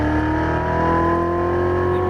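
A Chevrolet Corvette Z06 Stingray engine pulls hard on a racetrack, a loud, steady tonal whine with strong engine harmonics held close throughout the short stretch.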